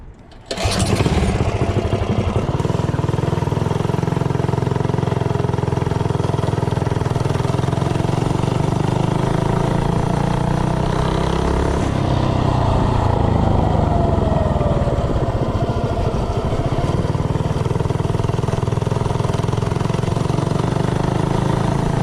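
A Predator 212 engine fitted with a 15 tooth clutch revs up sharply and holds a loud, steady drone through a top speed run, with a brief dip partway through before climbing again.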